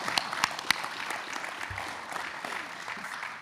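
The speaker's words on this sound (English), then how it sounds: "A round of applause for our students." Applause for honored students at a Board of Regents meeting, a steady spread of clapping from a seated audience with a few sharp individual claps near the start, tapering slightly at the end.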